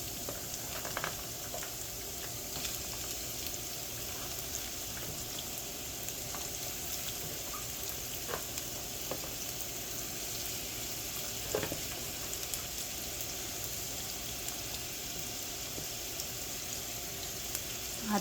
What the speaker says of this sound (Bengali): এর সাথে আমরা পেঁয়াজ কুচিটা দিয়ে দিই। ভেজে নিচ্ছি কয়েক সেকেন্ড।